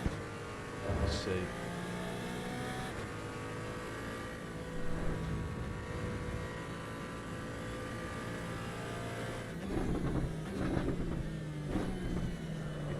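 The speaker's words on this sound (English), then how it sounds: "It takes a little while to get the car down into second gear." A car in the racing sim AC EVO drops from third into second gear, its engine droning in a steady harmonic whine with brief revving surges near the start, around five seconds and again late on.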